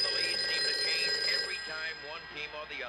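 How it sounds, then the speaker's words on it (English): A telephone rings indoors in a 1970s domestic scene, a steady electronic ringing that fades toward the end while a sports broadcast and other background sound continue underneath. "Get the phone."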